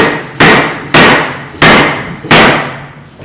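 A hammer taps laminate flooring into place in an office, giving four sharp, loud, evenly spaced knocks, each with a quick decay, close by and with no talk.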